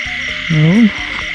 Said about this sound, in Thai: กบครับกบกบกบ